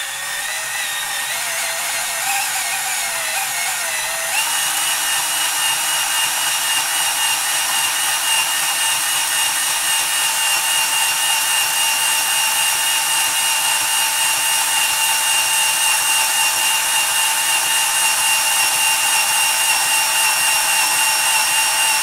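A Proxxon FF230 milling machine cuts scrap aluminum, producing a steady high-pitched whine with a slight shift in tone early on, close and continuous with no talk.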